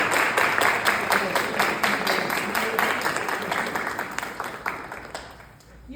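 An audience at a university talk claps together, a moderately loud crowd applause with distinct individual claps that gradually thins out and fades by the end.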